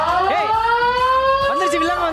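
A wailing siren sound effect for a siren task on a Tamil cooking show, a steady sustained electronic tone with bending harmonics that holds loudly throughout, with faint overlapping sweeps beneath.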